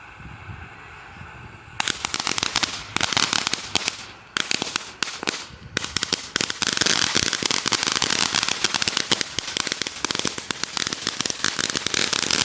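Fireworks and firecrackers go off outdoors: a faint hiss, then a long, dense barrage of sharp crackling pops and bangs that keeps firing rapidly, close and loud, with a couple of brief pauses.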